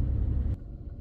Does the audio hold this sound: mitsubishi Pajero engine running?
yes